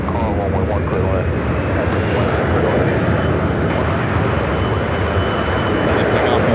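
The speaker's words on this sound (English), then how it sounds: "That's American Eagle 5035 taking off to Cincinnati on the CRJ" An American Eagle CRJ regional jet takes off from runway 15 at LAX, a loud, continuous roaring engine rumble heard from nearby, with people talking faintly underneath.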